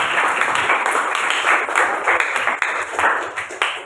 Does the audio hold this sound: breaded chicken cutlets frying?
no